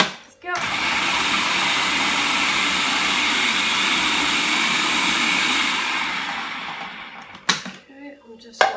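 Blender whizzing a salmon and prawn dip, one loud, continuous whir lasting several seconds that winds down near the end, followed by a couple of clunks, close and with no talk.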